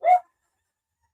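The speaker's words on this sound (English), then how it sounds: "That's my dog." A dog gives one short, sharp bark, close and clear, followed by silence.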